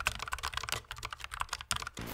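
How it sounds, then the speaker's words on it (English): A Logitech MX Mechanical wireless keyboard being typed on, a fast, even patter of crisp mechanical key clicks, close and alone for a couple of seconds. "the MX Mechanical from Logitech, as it was considered one of the best wireless keyboards that you can buy"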